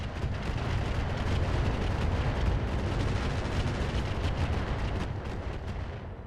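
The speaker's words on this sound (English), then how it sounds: "Oh yeah, that's a rocket launcher." Dense, sustained barrage of rocket launcher fire and explosive impacts in the RogueTech mech combat game, a continuous rumbling roar with rapid crackling bursts throughout, loud and unbroken with no talking.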